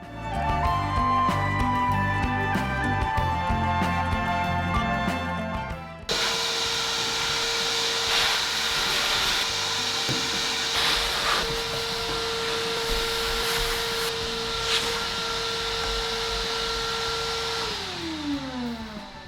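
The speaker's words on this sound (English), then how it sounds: "With vacuuming done" Vacuum cleaner running steadily and close, a continuous whirring hum that changes character partway through as if switched or moved, with a faint tonal whine that drops at the end.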